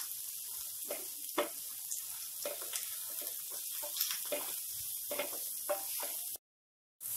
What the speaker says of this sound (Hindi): सब्जी को हमें चलाते हुए फ्राई करना है